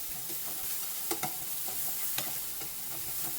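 Shiitake mushrooms stir-fried with sugar in a pan, giving a steady low sizzle broken by a few sharp scrapes and clicks of a utensil tossing them, close up and with no talking.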